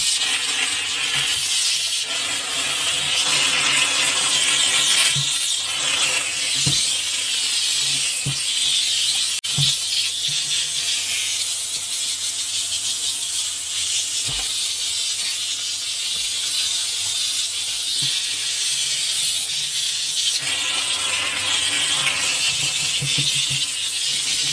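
A Silvercrest SDR 1050 D1 hand held steam cleaner steams steadily with a loud, continuous broadband hiss, punctuated by a few soft knocks and clicks, with no talking.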